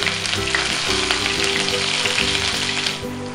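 Curry leaves and green chillies sizzle loudly in hot oil during tempering for a wild monsoon vegetable bhaji, a steady close crackling frying sound with stirring, no talk.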